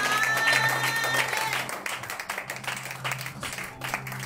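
A congregation at a French-language prayer marathon claps and applauds, acclaiming the king of kings. The clapping is loud and dense at first, then thins into scattered, uneven claps, with voices in the crowd underneath.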